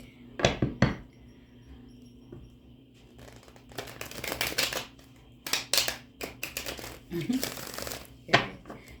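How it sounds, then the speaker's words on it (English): Rider-Waite tarot deck being shuffled in repeated riffling bursts, crisp and close, with a person talking between the shuffles. "let me get you some good shuffles in"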